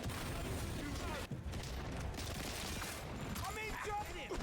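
Gunfire in the video game 007 First Light, a dense, continuous barrage of shots and booms mixed with speech throughout, with bright ringing impacts near the end.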